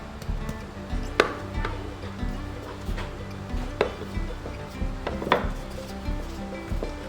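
A wooden rolling pin working steamed chicken bun dough on a board: soft rolling rubs punctuated by several distinct knocking taps, close and fairly quiet, spaced irregularly.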